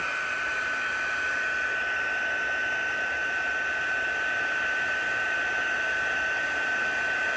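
A heat gun blows steadily on embossing powder on a handmade card, giving a continuous close, loud airy whoosh with a faint high whine that holds unbroken and with no talking.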